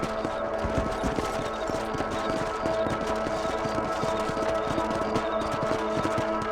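Horse hooves clip-clop in a quick, steady rhythm on a ranch in the Red Dead Redemption video game, close and continuous beneath a light musical backdrop.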